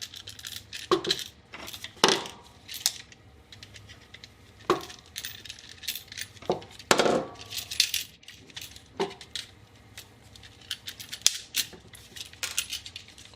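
Lineman's pliers twisting and snapping the metal mounting tabs off a USB outlet in a garage, giving a string of close, sharp metallic clicks, snaps and scraping clinks at irregular intervals.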